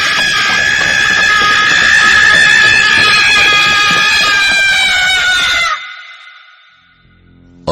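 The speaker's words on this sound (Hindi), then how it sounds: "कोई उनके ठीक पीछे से चीखता हुआ" A person screams and runs past in a horror story sound effect. A loud, sustained, piercing shriek goes on for nearly six seconds, then cuts off into a fading echo.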